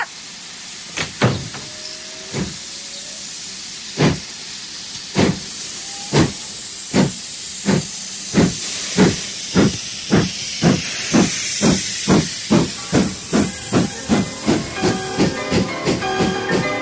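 A steam train sound effect puffs out sharp hissing chuffs, slow and spaced at first, then quickening into a rapid, even rhythm as the locomotive gathers speed, loud and near with no talk.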